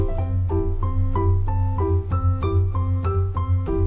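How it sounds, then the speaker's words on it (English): Piano chords play in a steady, repeating rhythm, each struck note ringing briefly before the next, over a low sustained bass. "It's the sound of a piano."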